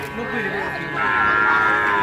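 Young calves moo at a village livestock market, a long drawn-out bellow close by that swells louder in the second half, with crowd noise behind.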